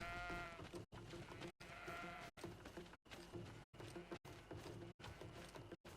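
Sheep bleat again and again in the video game GreedFall, close and clear, each call separated by brief silent gaps.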